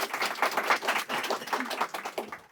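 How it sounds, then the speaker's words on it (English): A live studio audience claps, with individual hand claps audible as an uneven, fluttering patter that swells and fades slightly before trailing off at the end. "The applause is just such a natural thing."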